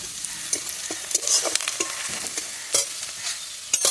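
Garlic and onion frying in oil for taro stolon (kochur loti) as the stolons go into the pan, a steady close sizzle broken by repeated scraping stirs, with no talking.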